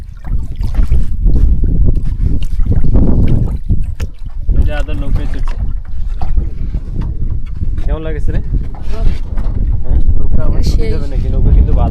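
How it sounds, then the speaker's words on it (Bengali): Water waves lap and slosh against a boat at a river shore, with a low, churning splash. Gusty wind noise on the microphone runs through it, and a voice talks over the water in parts. "পানির কলো কলো ঢেউয়ের শব্দ শুনুন"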